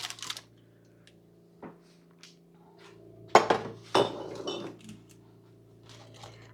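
A metal baking pan for meringue cookies is pulled out from underneath a stack, making a few sharp clinks and clatters of metal on metal with quiet gaps between them, fairly close.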